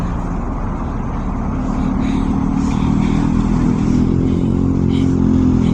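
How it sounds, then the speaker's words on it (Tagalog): Night road traffic with cars and motorcycles passing close by makes a loud, steady engine drone, with a motor tone that rises and holds in the second half. "May traffic pala sa gabi."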